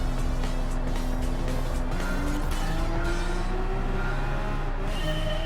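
Porsche race cars pull away at the start of a Porsche Cup race at Spa in Gran Turismo 7, a dense, loud, steady engine roar with several rising harmonic lines as the cars accelerate through the gears together.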